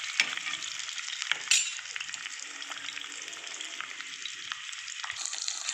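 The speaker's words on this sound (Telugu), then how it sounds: "గుడ్డు కూడా బాగా వేగుతుంది అన్నమాట ఆయిల్ అలా వేస్తే" Eggs frying in oil with chili powder and turmeric give a steady, close sizzle, broken by a couple of brief clinks from a stirring spoon.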